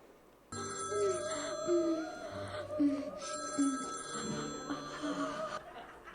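A telephone rings in a Delhi Belly film scene, its tonal electronic trill repeating loudly over several seconds with faint murmuring and laughter underneath.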